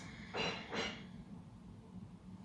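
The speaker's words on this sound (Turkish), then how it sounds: "Burundan nefes al ve burnundan boşalt." Two soft breaths drawn through the nose in quick succession during yoga, close and gentle, then quiet room tone.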